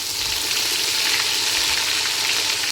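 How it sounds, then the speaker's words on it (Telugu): Steady, loud sizzling of ginger garlic paste frying in a hot pan, a continuous crackling hiss with faint stirring and no talking. "అల్లం ఎల్లిగడ్డ ఇది ఒక స్పూన్కు సగం అంతే. ఇది ఒక్కసారి కలిపేసుకుందాం."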